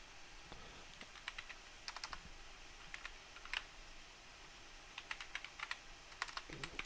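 Keys on a computer keyboard are tapped in quiet, irregular bursts of clicks with short pauses between, typing text into Notepad in a still room.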